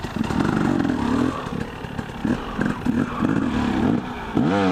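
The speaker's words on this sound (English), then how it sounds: "spin the back wheel round" An enduro motorcycle engine revs steadily while the back wheel spins, a loud continuous drone with rising and falling pitch and some clatter, ending in a sharper rev.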